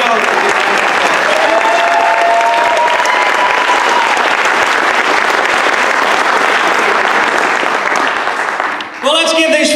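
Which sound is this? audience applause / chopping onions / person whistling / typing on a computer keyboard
audience applause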